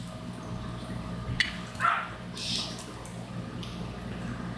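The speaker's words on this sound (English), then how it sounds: "And Cody, our little noisy dog, he's a Pomeranian, just like Charlie was" A small Pomeranian gives a few faint, brief yips and barks indoors, spaced apart over a low steady background hum.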